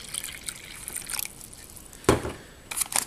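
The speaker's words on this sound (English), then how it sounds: "I'm going to pour the water in first just to extend the bag." Water poured into a plastic drink bag from a Canadian military ration pack, a soft trickle and slosh with a louder splashing gush midway and a few more splashes near the end.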